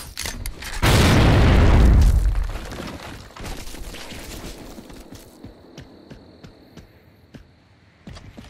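Grenade explosion in Gears of War: one loud, deep boom that rumbles for about a second, then trails into a quieter decay with scattered crackles and low hum.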